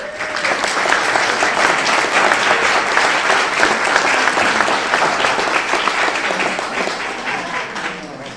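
Dense, loud applause from a board meeting audience at a school district session, honoring a retiring staff member; sustained clapping that holds steady throughout, with faint crowd murmur mixed in.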